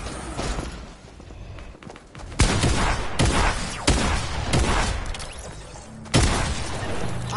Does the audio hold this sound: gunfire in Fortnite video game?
yes